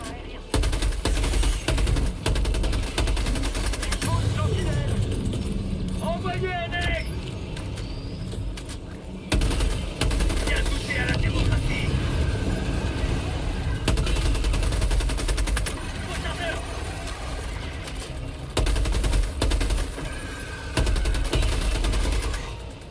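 Rapid automatic gunfire from the player's weapon in the video game Helldivers 2, sustained loud bursts with brief pauses over a dense battle din, with someone talking over it.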